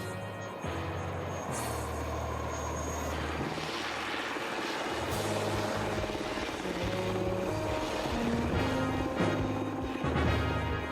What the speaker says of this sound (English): the helicopter returns to quickly extract the rescue party and pilot.